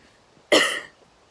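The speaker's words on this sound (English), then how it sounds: "Excuse my cough" A single short, harsh cough bursts out close by, lasting under half a second amid otherwise quiet surroundings.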